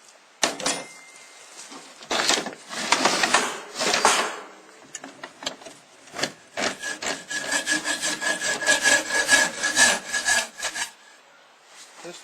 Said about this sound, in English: we got to rasp the edges off of here a little bit